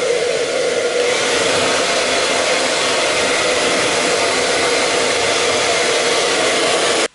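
A hair dryer blows steadily at close range with a constant whooshing roar, then cuts off abruptly at the end.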